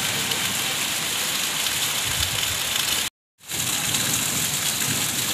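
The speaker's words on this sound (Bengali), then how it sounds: "মুষলধারে বৃষ্টি হচ্ছে।" Heavy rain pours down in a steady, dense wash across the whole clip. The noise is interrupted by a brief dead-silent gap near the middle, then the downpour resumes at full strength, with no voices present.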